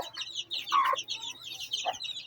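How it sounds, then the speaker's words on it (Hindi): A hen clucks close by among her chicks, about one and a quarter months old, in a home chicken-raising setup, with a quick series of short clucks and a louder squawk partway through, with no talking. "बहुत अच्छी मुर्गी है ये।"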